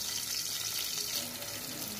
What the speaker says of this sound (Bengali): আমি এখন পেঁয়াজ অ্যাড করে দিচ্ছি ভাজার জন্য।